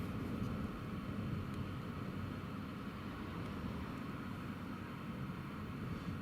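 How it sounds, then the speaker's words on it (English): An aircraft taxiing at Newcastle Airport during Storm Eowyn produces a steady, distant low engine rumble mixed with broadband wind noise, continuous and faint, with no voices. "Just taxiing down the taxiway there."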